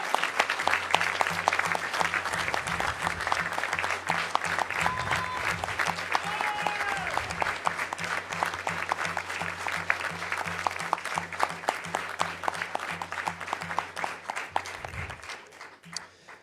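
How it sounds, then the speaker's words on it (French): Audience at a municipal council meeting applauding a team, dense continuous clapping that carries on for a long stretch before tapering off, with a low hum underneath. "J'aimerais qu'on applaudisse notre équipe On est ensemble de 2020"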